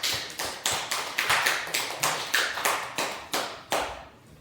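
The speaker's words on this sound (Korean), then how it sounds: "그렇다면 박수를 한번 보내주시기 바랍니다." Church congregation clapping in unison, sharp rhythmic claps in a steady beat that stops shortly before the end, fairly loud and close with no talking.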